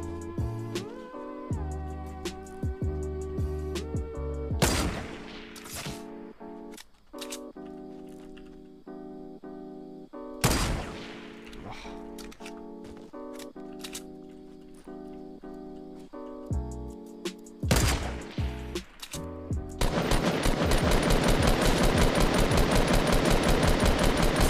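Gunfire in the video game Fortnite at night, with bursts of shots and clattering impacts over a tonal game soundtrack, ending in a sustained loud rapid volley.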